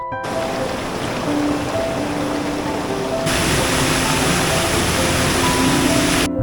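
Clear mountain stream rushing in Sultan Kudarat countryside, a steady broadband wash of flowing water, loud and close, continuous throughout with no talk.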